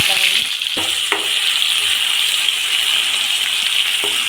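Onions frying in oil in a kadai give a loud, continuous hiss that runs the full length with little change.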